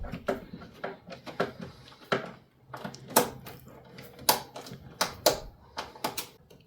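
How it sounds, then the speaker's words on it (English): Screws are driven back in to secure an Intel Arc B580 graphics card in a PC case, heard as a close run of irregular sharp clicks and taps with short pauses between them. "I'm going to install the screws back in to hold the card in place."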